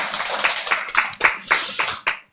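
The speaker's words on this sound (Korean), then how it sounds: "자, 여러분이 이제 박수를 쳤어요." Audience at a health lecture clapping in rhythmic, loosely synchronized beats, about eight distinct claps in quick succession, close and clear before stopping abruptly.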